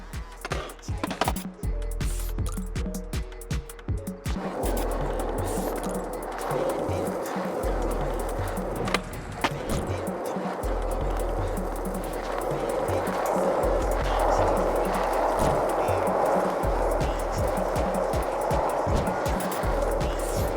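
A skateboard in a skate video game rolls and carves steadily, with clicks and pops near the start, followed by a continuous close wheel roar. A faint voice can be heard at times.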